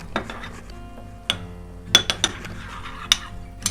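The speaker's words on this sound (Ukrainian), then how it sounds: "та перемішаю." A spoon stirs garlic, basil, tomatoes and oil in a bowl, tapping and clinking against the sides in several quick, light strikes close by.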